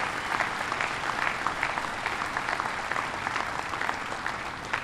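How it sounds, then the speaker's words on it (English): Sustained applause from a large crowd at a submarine christening, a dense even wash of clapping that holds steady the whole time with no voices standing out. "let's give these great builders a round of applause"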